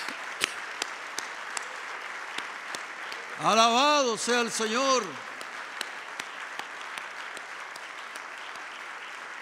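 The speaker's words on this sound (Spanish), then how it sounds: "¡Aplauda al Señor!" A church congregation breaks into a short burst of clapping in the middle of a sermon, a few seconds of applause over a preacher's raised voice exclaiming praise.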